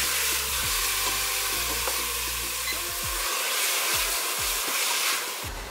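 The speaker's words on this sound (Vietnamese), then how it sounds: "Các bạn cho cỡ một cấp hai cấp kim chi gì luôn nha rồi mình sẽ trộn đều lên" Kimchi being stirred into a hot pot of Korean kimchi hotpot, a continuous sizzling hiss with scraping stir strokes and low clanks, close and steady throughout.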